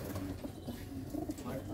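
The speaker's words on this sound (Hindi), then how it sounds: "ये हैं जी कबूतर" Flock of about 180 pigeons kept in a loft in Old Delhi, soft low cooing murmuring continuously at a distance, faint, mixed with light background chatter.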